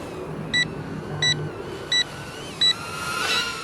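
Four evenly spaced short electronic beeps from a Potensic A20W Firefly mini camera drone's low-battery alarm, sharp and clear over faint outdoor background hiss.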